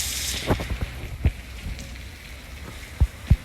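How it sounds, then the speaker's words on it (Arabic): Rain falls outdoors on a tourist island, a soft steady wash of hiss with scattered dull thumps and drips landing close by. "المطر هذا سبحان الله يزيد المطر خير هو."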